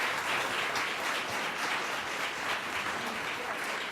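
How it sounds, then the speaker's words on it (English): Continuous, even applause from an audience at an evening talk with researchers in London, a dense wash of many hands clapping at steady volume throughout. "So if we could just give them a round of applause to thank them for taking the time tonight."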